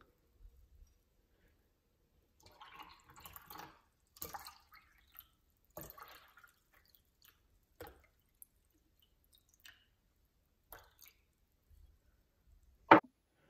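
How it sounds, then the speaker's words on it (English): Water gently poured into both sides of a homemade electrolysis apparatus with a cotton membrane, heard as sparse, quiet drips and small splashes separated by near silence, ending with one sharper knock. "Now gently pour the water in on both sides of the apparatus"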